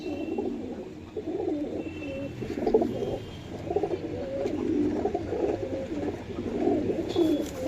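Pigeons cooing close by in repeated soft, throaty rolling calls that overlap almost continuously, with light rustling underneath.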